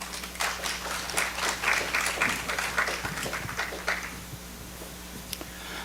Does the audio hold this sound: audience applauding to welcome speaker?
yes